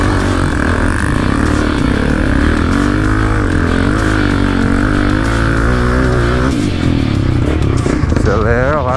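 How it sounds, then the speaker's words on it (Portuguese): A Honda CRF 250F dirt bike climbs a rocky mountain trail, its engine droning steadily and loudly close by, with its pitch wavering as the throttle changes and a rev near the end, while a rider talks over it. "Acelera lá, motinha."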